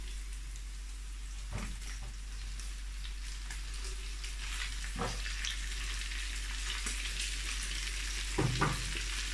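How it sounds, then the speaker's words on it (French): Leeks frying with bacon lardons in a pan give a continuous bright sizzle, broken by a few sharp spatula stirs and scrapes, with a low steady hum beneath and no talking. "Après avoir frit mes lardons, je vais ajouter les poireaux."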